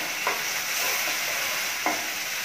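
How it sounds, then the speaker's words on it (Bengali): Meat with ginger and garlic frying in a pan, a steady broadband sizzle throughout with two brief scraping stirs of a utensil standing out near the start and end. "সেগুলি একটু হালকা ভেজে নিব মাংসটার সাথে।"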